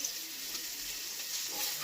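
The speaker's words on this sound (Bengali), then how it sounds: "আলু ভাজছে, ও বেগুন ভাজছে আলাদা করে" Potatoes and eggplant frying in a home kitchen pan, a steady, fairly soft hiss of oil running unbroken throughout with no voices.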